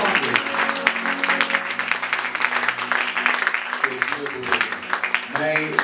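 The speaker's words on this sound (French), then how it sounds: "Et toute l'église, est-ce que nous pouvons acclamer" A church congregation applauding, a steady wash of clapping from many hands throughout, with voices and a sustained tone underneath.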